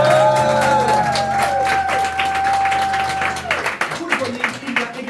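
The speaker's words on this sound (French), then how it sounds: "vous aurez envie d'applaudir et notamment d'applaudir notre musique" Theatre audience applauding the musicians, a dense wash of clapping with some cheering, fairly loud and steady, tapering toward the end while sustained musical tones ring underneath.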